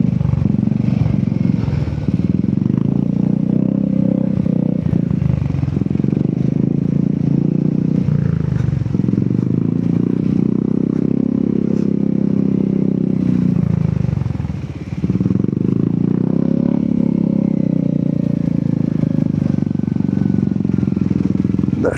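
A Royal Enfield Hunter motorcycle rides through mountain-pass slush in Ladakh, its steady engine drone mixed with rough clattering and splashing from the wheels, continuous and close, with a brief dip midway.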